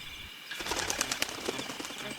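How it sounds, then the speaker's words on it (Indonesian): A small, colorful bird flaps its wings overhead in a burst of soft, rapid fluttering beats that start after a brief quiet moment and continue steadily at moderate volume, with no voices. "Suara sayap terdengar dari atas sang kelinci."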